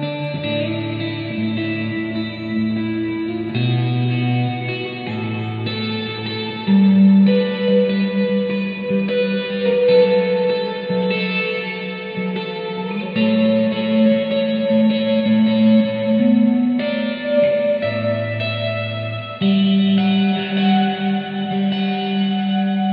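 Electric guitar playing worship-style intervals through effects such as echo, reverb and chorus, sustained overlapping note pairs shifting every few seconds in a steady, washy flow, played alone without talk.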